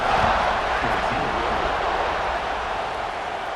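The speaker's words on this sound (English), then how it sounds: "They're set to kick it off, and this crowd now ready to get behind them" A football stadium crowd at a Georgia vs Ole Miss college game roars steadily at kickoff, a broad, loud, sustained cheer that fades slightly toward the end.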